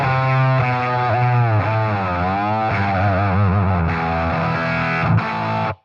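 An electric guitar runs through a drive pedal, with sustained distorted notes and chords bending and warbling for several seconds before cutting off abruptly, loud and alone.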